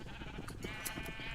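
Minecraft sheep bleat repeatedly in short wavering calls over a steady wash of background noise, fairly faint and close together, with no talking.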